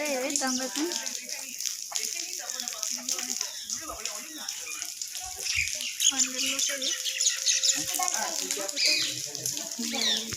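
Water flows steadily beside a rock path at the Buddhist caves of Ellora, a continuous rushing hiss running the whole way through, with people talking over it and birds calling.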